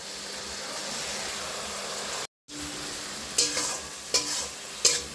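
Spice paste of green chili, cumin and ginger-garlic hitting hot oil in a pan, a steady bright sizzle with a brief drop to silence, then several sharper crackling bursts as it is stirred.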